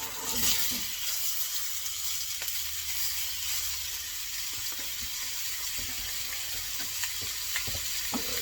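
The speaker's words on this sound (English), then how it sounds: "We sliced up some onions here, and just thinly sliced. And we're just going to toss them in there." Thinly sliced onions sizzle steadily in a hot frying pan while being tossed and stirred for pork chops, a continuous broadband crackle with occasional clinks, no talking.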